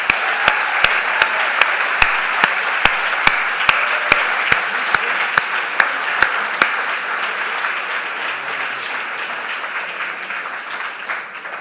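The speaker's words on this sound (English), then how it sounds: "And I think they deserve a round of applause." Audience applause for a graduating medical class at a 2018 international medical school ceremony: one person's sharp, evenly spaced claps stand out over a dense crowd, then the single clapping stops and the general applause carries on and slowly thins.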